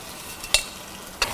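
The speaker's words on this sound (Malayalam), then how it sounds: "ഇതിലോട്ട് നമ്മൾ മാരിനേറ്റ് ചെയ്ത് വെച്ചിരിക്കുന്ന ചിക്കൻ ആഡ് ചെയ്ത്" Marinated chicken is added to a hot pan for Chicken Hariyali and stirred, giving two short, sharp scraping stirs over a faint, steady sizzle.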